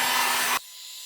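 A heat gun blows a loud, steady rush of hot air over epoxy resin like a hair dryer for about half a second, then cuts off abruptly, leaving quiet.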